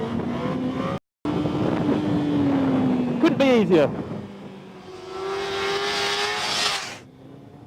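A motorcycle engine revs during a power wheelie: the throttle is knocked off with a sharp dip, then snapped back open into a rising roar, with wind buffeting the microphone and someone speaking briefly.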